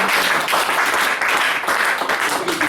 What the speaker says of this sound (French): Acclamation pour les saints.